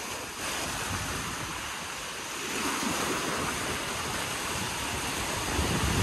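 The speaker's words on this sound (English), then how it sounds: "So the waves aren't huge, but it's very choppy." Choppy ocean surf on a windy day rushes and washes continuously near the shore, a dense roar mixed with gusty wind noise on the microphone, with no voices.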